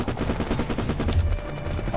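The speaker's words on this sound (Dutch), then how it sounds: "Gaan we het machine gun?" Rapid machine gun fire in Unturned, a dense, continuous stream of loud close shots with an even, fast rhythm throughout.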